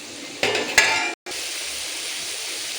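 Onions sautéing in a home kitchen pan for chicken biryani gravy. Two quick scraping stirs stand out, then a short gap, then a soft, steady sizzle continues on its own.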